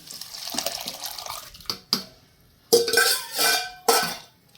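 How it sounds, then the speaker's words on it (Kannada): Cooked lentils are spooned into a pan of eggplant sambar, making wet, splashy plops and brief metal scrapes in a few close bursts with short pauses between them, and no speech. "ಬೇಳೆನ ಬೇಯಿಸ್ಕೊಂಡಿರುವಂಥದ್ದನ್ನ ಆ್ಯಡ್ ಮಾಡ್ತಾ ಇದ್ದೀನಿ"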